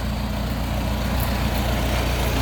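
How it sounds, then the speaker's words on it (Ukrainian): A T-40 tractor engine runs steadily while pulling a seed drill sowing soybeans in a field, its low, continuous rumble loud and close throughout, with no one talking. "Трактор Т-40 сівалка."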